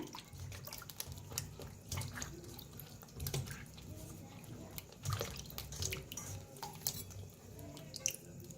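Halved eggplants being rinsed by hand in water, with steady splashing, sloshing and trickling close by throughout, no talking.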